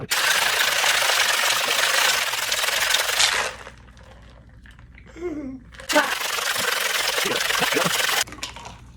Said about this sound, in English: So I'm going to shake this for a while.